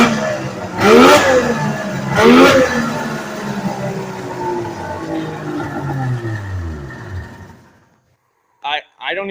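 A Polaris triple-cylinder snowmobile engine, long left sitting, is run on a track stand: two sharp, loud revs, then a long winding-down whine over several seconds that fades to silence before a brief final burst.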